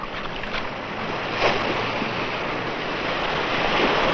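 Strong outdoor wind roars steadily and buffets the microphone in a dense, unbroken rush, swelling slightly in gusts throughout.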